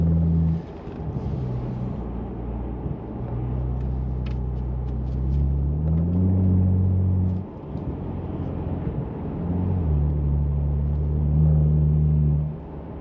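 A warmed-up BMW 535iX F10 engine revs up in repeated pushes, its low rumble rising and falling in pitch over a steady loud idle, close by with no talk.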